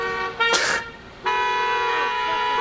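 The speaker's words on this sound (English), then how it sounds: "Everyone always freaking honks in the parking lot." A car horn in a school parking lot gives a short toot, then after a brief pause a longer sustained honk, fairly close and standing alone.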